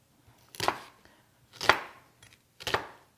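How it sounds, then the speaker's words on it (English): A knife chops onions in three separate, evenly spaced strokes, each a crisp close thump against the cutting board, with brief quiet gaps between them. "And we are going to start chopping."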